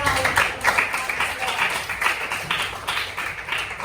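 A classroom of students claps hands together, a quick, uneven patter of many close claps with a few sharper bursts, sustained for several seconds without a clear beat.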